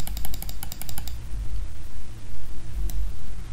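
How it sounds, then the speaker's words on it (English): Rapid mouse clicking while building a custom map in Piggy Bunker, a quick run of about ten crisp clicks in the first second, then a lone click later over a low background rumble. "you just have to like spam click it"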